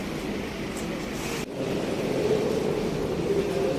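Rumbling of a metro train at Education City station in Qatar, a steady loud roar of wheels and motors with a brief dip midway, no voices.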